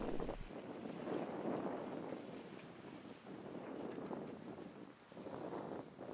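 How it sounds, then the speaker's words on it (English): Steady wind gusting across a sailboat with its daggerboards down, sailing a reach in about 13 knots of breeze while the engine idles slowly in the background. The rushing swells and eases continuously, close to the microphone, with no voices. "We've got 13 knots of wind."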